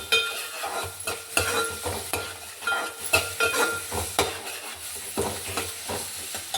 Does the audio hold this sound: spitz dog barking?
no